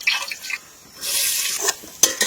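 Cinnamon, cardamom and bay leaf frying in pure turmeric oil for spicy pulao, giving bursts of loud sizzling hiss with short pauses and no talk.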